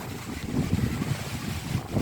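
Steady wind rushing and buffeting at an outdoor spot in Carmona, with low rumbling gusts close to the microphone and no voices.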